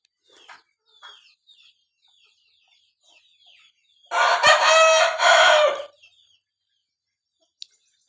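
Faint chirps and clucks, then one loud, close crow from a young rooster lasting under two seconds, followed by quiet and a single sharp tap.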